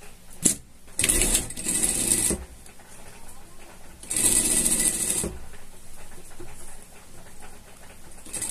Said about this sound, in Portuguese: Aqui, a gente vai passar uma costura pregando os nossos bolsinhos.